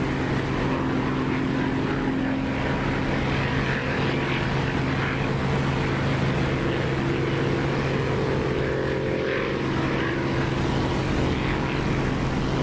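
Spitfire piston engine droning with its propeller in the DCS flight simulator, a steady, loud, unbroken hum that holds level throughout with no voices.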